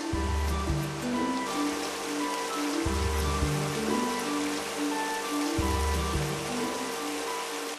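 Rosé grape juice is pumped into a receiving tank at a winery, giving a steady, loud rushing and gushing liquid flow with a low, surging pulse that swells every few seconds and never lets up.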